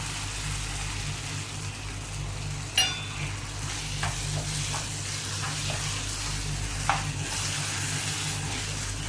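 Chicken curry sizzles steadily in a pan as the remaining curry leaves go in, a continuous frying hiss with a few light clicks of stirring, no talk.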